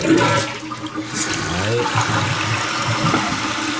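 A rebuilt Aqua Source toilet with a 3-inch flush valve flushes with a loud rushing swirl of water that drains and gurgles steadily for several seconds, close by.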